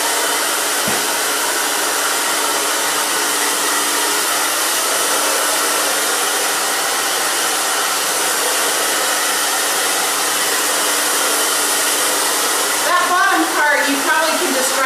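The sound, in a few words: hair dryer blow-drying hair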